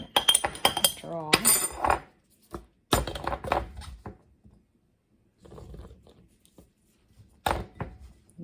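A spoon clinks and scrapes against a glass jar as sliced hot peppers are packed down for pickling, with bursts of clatter separated by short quiet gaps and a few softer knocks later on.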